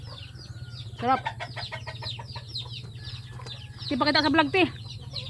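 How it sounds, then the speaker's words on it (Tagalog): Chickens cluck loudly in two bursts of rapid calls nearby, over a steady low hum, with a person speaking briefly between them. "Pasensya na kayo ang ingay ng manok ng kuya ko"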